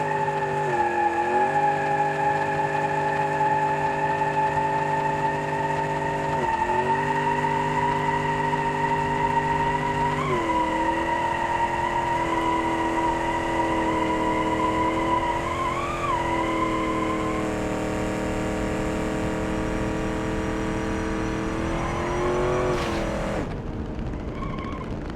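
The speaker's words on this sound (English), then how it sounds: "we got to do burnouts for distance, because I think this thing can blow the tires off" A big-block Chevy Impala doing a burnout in BeamNG.drive, its engine holding a loud steady drone with rising and falling shifts in pitch and ending in a final surge, with tire squeal mixed in.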